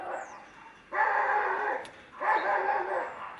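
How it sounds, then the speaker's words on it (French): A small dog barks along with a neighbouring dog, giving two sustained, whining yips indoors at close range with a short gap between them, and no talking. "qui jappait avec le chien d'à côté"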